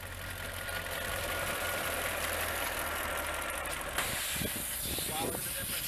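A pressure washer sprays down a car engine bay during detailing, a steady loud hiss of water jets with a shift in tone partway through as the spray moves.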